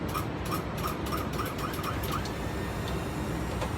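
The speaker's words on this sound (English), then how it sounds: "motor kicks on off, on off, on off until it actually catches, and it'll stow it away" A Ricon wheelchair lift's motor stowing the lift: a loud, steady mechanical grinding hum with a rapid ratcheting clatter, close up and continuous throughout, with no voices.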